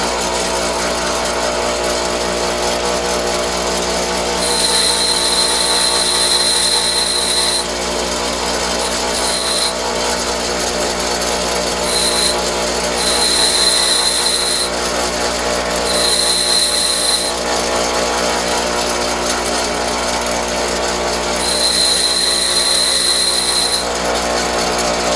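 A bench grinder runs steadily while a lathe tool is sharpened freehand against it, a constant motor hum with several bright scraping bursts of grinding contact, near and without speech.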